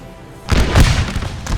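A 30-pound siege gun fires on a Civil War battlefield, a loud close boom followed by rumbling reverberation and further dull thuds.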